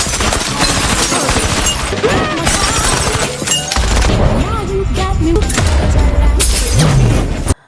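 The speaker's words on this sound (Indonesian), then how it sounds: "Namun tiba-tiba, Dan dihujani peluru, sedangkan Jessica disandra." Gunfire erupts in a film scene where a man is showered with bullets at a hotel: dense, loud bursts of rapid shots and impacts continue without pause, mixed with music and crashing effects.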